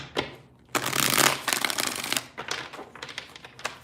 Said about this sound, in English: 3 more shuffles here, 3 more.